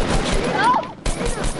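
Gunfire in the Fortnite video game, a burst of continuous shots that cuts out briefly and then resumes, with excited voices talking over it.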